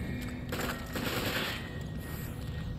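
Rapid gunfire from the Resident Evil 5 video game, a dense rattling burst of shots filling the clip with steady, loud crackle and no talking over it.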